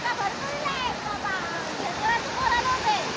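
Water flows beside a creek, a steady rushing and splashing that stays continuous and fairly close throughout.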